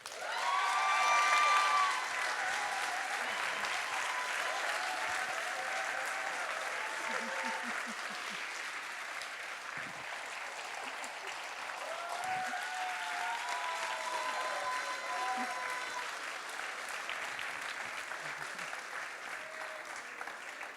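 Long, sustained audience applause follows an a cappella mini-concert, a warm steady wash of many hands at moderate distance with occasional cheers and murmured voices mixed in, swelling briefly near the start.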